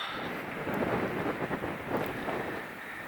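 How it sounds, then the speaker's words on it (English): Steady, gusty wind roars across the microphone in low rumbling surges, continuous and fairly loud with no voices. "It's so windy though."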